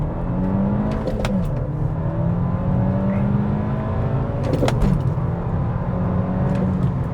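A Volkswagen Mk5 Golf GTI launches hard from a standstill, its engine roaring loud and close as revs climb in steady pulls, with two sharp gear-change breaks before the note rises again.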